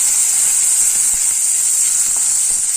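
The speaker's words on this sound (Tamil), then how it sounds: "நல்லா வதக்கி விட்டுறலாம்" Vegetables sauté in a hot pan for pearl millet kanji, giving a loud, steady, unbroken sizzling hiss with no voices.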